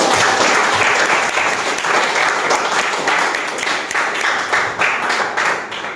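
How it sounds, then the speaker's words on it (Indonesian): A classroom audience applauds together after a mathematics lesson, steady dense clapping that holds at full strength for the whole stretch without anyone talking over it. "kita tepuk tangan dulu buat"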